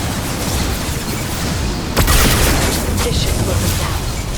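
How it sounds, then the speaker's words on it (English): Flashbang grenades go off in the video game Mass Effect 2, a sudden loud burst followed by a noisy ringing wash over steady gunfire and combat din. "Watch out, flashbangs!"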